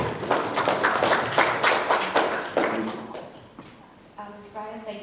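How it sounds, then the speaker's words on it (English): Audience applause at a local government conference, a burst of clapping that fades over a few seconds before a voice begins speaking. "A round of applause for Mrs. Butler."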